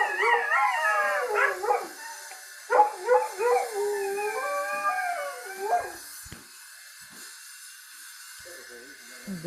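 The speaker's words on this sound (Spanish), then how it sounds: "aquí están los perros alborotados por la bulla" Several dogs barking and howling together, long rising and falling howls mixed with yips, fairly close and loud at first, then tapering off into a few faint distant cries.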